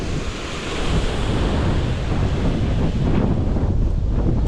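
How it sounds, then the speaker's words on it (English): Water from the Talla waterfalls pours down over rocks into a cavern, a steady, loud, close rushing roar with wind buffeting the microphone throughout. "sit and watch the waterfalls cascading down and round"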